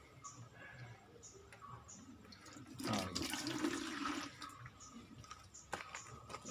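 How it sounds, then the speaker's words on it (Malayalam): Water gushes out of an opened water filter housing whose valve was left open, a short loud rush of about a second over quieter background drips and room noise. "ഇതിനകത്തേക്ക് കിടക്കുന്ന വെള്ളം താഴേക്ക് വരും."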